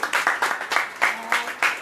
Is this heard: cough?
no